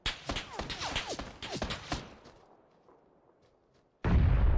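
Gunfire rings out in Apex Legends, a rapid burst of sharp, loud shots fading into quiet, then a heavy, sudden blast near the end.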